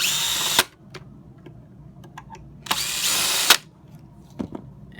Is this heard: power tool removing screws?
yes